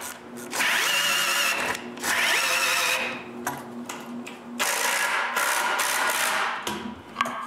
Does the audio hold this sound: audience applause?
no